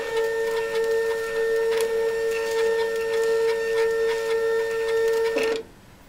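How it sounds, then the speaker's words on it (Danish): A CAB wristband printer at a Danish hospital prints a patient wristband with a steady, close mechanical whir and faint rapid ticking. It runs evenly for about five seconds, then cuts off abruptly, with no talking. "og printeren er klar til at printe."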